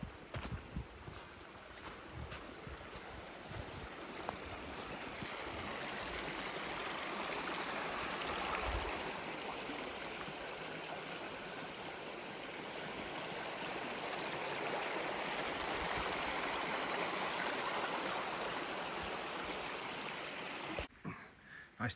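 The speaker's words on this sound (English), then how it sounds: "that's the water I could hear" A stream flows steadily on a Shropshire hillside walk, a soft, even rush and trickle of water that holds for over twenty seconds, faint and close, with no talking.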